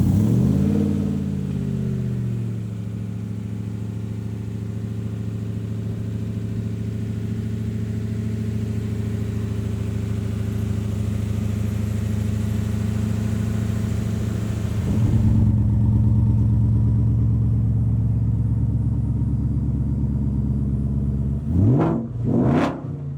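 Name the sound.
1965 Shelby Cobra Backdraft with Coyote engine revving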